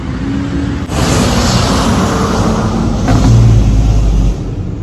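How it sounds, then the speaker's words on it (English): A fire truck drives through a residential neighborhood, its engine rumbling loudly and steadily nearby with a brief rise in revving before easing off. "fire truck coming through the neighborhood"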